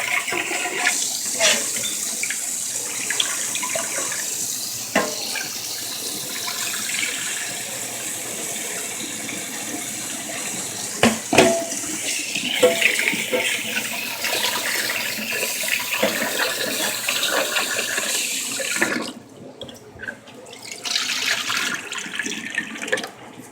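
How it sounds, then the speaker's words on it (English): Rice being washed under a running kitchen tap: steady splashing and gushing water with occasional clinks and swishes of grains in a bowl, continuing for a long stretch before the flow briefly drops away near the end. "So I just basically wash my rice out first."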